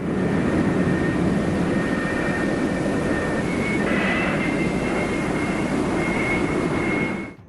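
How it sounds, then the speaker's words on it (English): An F-4E Phantom jet with slatted wings sits positioned over an aircraft carrier catapult, its engines producing a loud, sustained roar with a faint high whine that holds steady before fading at the end. "The flight deck director meticulously guides each aircraft into position over its assigned catapult"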